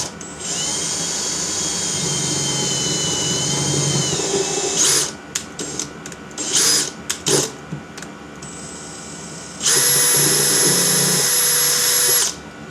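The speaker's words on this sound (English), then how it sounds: "Just going to drill a wee pilot hole in first." A cordless drill whines steadily, then stutters in short bursts as it bites into a pilot hole for rivet nuts on a car, and later runs again in a strong, even whir, close by.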